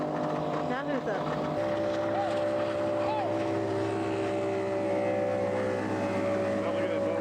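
A racing boat's engine drones steadily and loudly during the 1991 Yukon 800 river race, its pitch shifting slightly as it runs, with people talking over the continuous engine noise.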